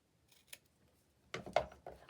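Scissors cutting card for a handmade pop-up flower vase card: one faint snip, then a closer cluster of quick crisp snips near the end.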